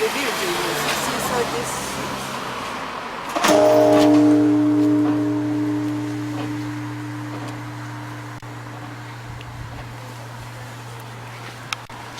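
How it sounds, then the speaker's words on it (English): A large Japanese temple bell is struck once, its deep hum lingering and slowly fading for several seconds while people talk nearby. "They're tolling a big bell."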